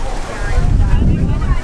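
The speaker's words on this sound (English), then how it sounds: "The wind is kind of picking up" Gusting wind buffets the microphone beside the water at Epcot, where gondolas pull in, making a loud, continuous low rumble with rushing texture throughout.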